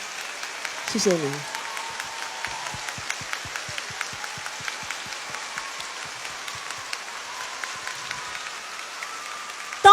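A concert crowd at a 2004 classic hits concert applauds an orchestra, with rhythmic clapping running under a singer's amplified voice thanking them, steady and moderately loud throughout.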